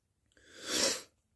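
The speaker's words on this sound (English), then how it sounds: "Sorry about all the sniffling and coughing" A single sneeze-like burst from someone with a cold, a sharp breathy rush rising and fading in about a second, close to the microphone with no other sound around it.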